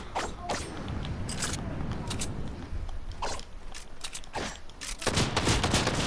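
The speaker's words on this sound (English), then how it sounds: "Hey, stop shooting at me." Rapid bursts of gunfire in the video game Fortnite, several volleys cracking close and loud with short gaps between them, layered over constant game background noise.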